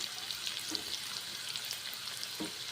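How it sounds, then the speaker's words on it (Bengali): Onions frying in a pan, giving a faint, steady sizzle with occasional soft pops and stirring sounds, with no voice. "পেঁয়াজগুলো ফার্স্টে ভেজে নিচ্ছি"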